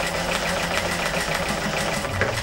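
A sewing machine quilting as the presser foot is guided around a ruler, a loud, steady, rapid mechanical stitching hum with a fast even rhythm, alone and close.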